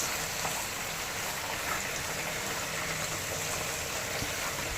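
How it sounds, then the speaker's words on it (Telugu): Pieces of fish dropped into hot oil with already-fried onions for a Godavari-style fish curry give a steady, dense hiss and crackle that stays even and fairly close throughout. "ఇప్పుడు చేప ముక్కలన్నీ వేసేసుకోవాలి."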